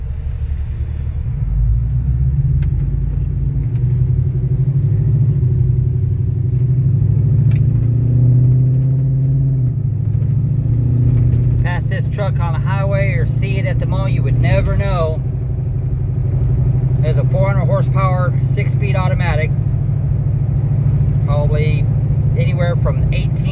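A 1990 Ford Bronco with a Coyote engine swap drives along, its steady low engine rumble and road drone running throughout while people talk over it in the second half.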